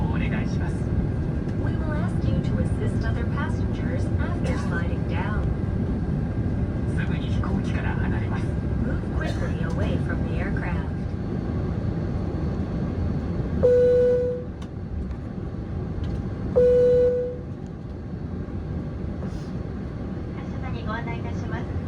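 Cabin of an airliner waiting for takeoff at Hakodate Airport: a constant low hum of engines and ventilation fills the space under a long spoken safety announcement, with two short chimes sounding near the end.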